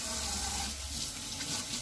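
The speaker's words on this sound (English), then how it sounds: "rinse your hand one more time" Steady stream of tap water running into a kitchen sink while a hand is rinsed during chicken soup preparation, a constant close splashing hiss with no talk.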